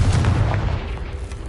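A Confringo fire spell blast from the video game Hogwarts Legacy: a loud, booming burst with a deep low rumble that fades over about a second, heard alone without talk.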